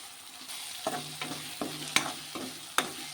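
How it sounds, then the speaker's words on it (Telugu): Tomatoes frying in a pan over a quiet sizzle, broken by a series of sharp spatula taps and scrapes at a roughly regular pace, with no one speaking. "టమాటా కూడా పచ్చివాసన పోయేంత వరకు ఫ్రై చేసుకోండి."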